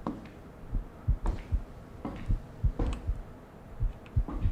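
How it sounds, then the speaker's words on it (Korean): A low, thumping heartbeat in a horror video game pulses in a steady double-beat rhythm, muffled and repeating over a faint background hum. "심장 소리 아니야 이거?"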